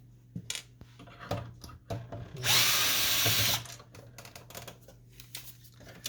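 A power screwdriver whirs in one burst lasting about a second while removing hinge screws from an HP Photosmart printer, framed by scattered clicks and plastic handling knocks, up close.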